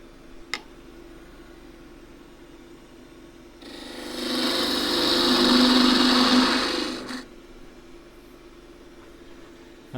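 A skew chisel shear cutting a small wooden twig pot spinning on a lathe, a smooth whooshing scrape rising and fading over about three seconds against a quiet motor hum, with no talking.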